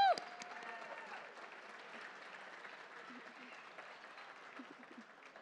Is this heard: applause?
yes